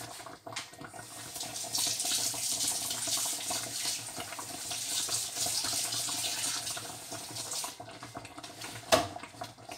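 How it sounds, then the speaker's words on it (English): Steady hiss of kitchen tap water running into a sink while a thermometer's end is rinsed, continuous and fairly close, with a brief clatter near the end and no talk. "I have rinsed off the bottom of the thermometer"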